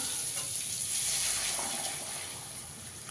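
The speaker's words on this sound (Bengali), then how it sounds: "এবার আমি গরম জল করে রেখেছি, দিয়ে দেবো।" Hot water poured onto cooked-down masala for a hilsa fish curry with raw banana sets off a loud, rushing sizzle that slowly eases over a few seconds, with no one talking.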